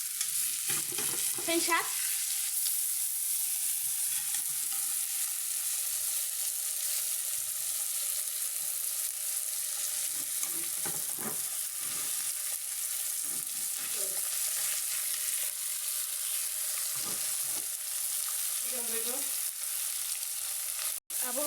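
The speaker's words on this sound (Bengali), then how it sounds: "মাছটি হয়ে এসেছে, জিরার গুঁড়ো দিয়ে এখন আবার নেড়ে ফেলে নিতে হবে।" Fish with potato and eggplant curry sizzles steadily in a frying pan, with a spatula scraping and stirring at intervals and a brief spoken word over the constant frying.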